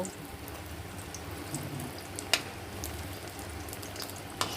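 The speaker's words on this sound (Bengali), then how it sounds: "আমি একটু আঁচটা কমিয়ে দিয়ে ধীরে ধীরে ভেজে নেব" Pointed gourd pakoras frying slowly in oil on a low flame give a steady, gentle sizzle close by, with a couple of faint clicks from a utensil.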